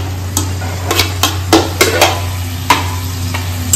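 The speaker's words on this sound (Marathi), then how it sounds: "ती फ्लावर आपण आपल्या मसाल्यात टाकणार आहे" Cauliflower stirred into masala in a pan, a series of sharp scraping and clattering stir strokes over a constant low background hum, close and fairly loud.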